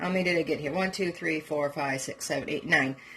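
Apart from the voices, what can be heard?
No everyday noises stand out.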